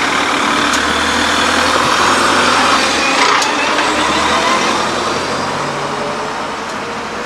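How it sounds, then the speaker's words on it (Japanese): A kindergarten shuttle bus's engine rumbles steadily and loudly up close on a street in Tokorozawa, a continuous idling drone with no voices heard. "富士幼稚園の送迎バスですね"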